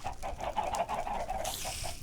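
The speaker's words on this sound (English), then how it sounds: "So I mean, I'm just feeding chickens." Chickens being fed in a video game give steady, soft clucks in a quick repeating rhythm, with a brief hiss of other game sound near the end.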